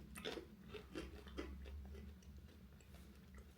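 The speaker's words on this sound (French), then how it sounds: "Déjà, ça croustille bien." Someone chews crunchy McDonald's waffle fries seasoned with pepper and onion, giving several close, faint crisp bites and crunches in an irregular rhythm against a low background hum.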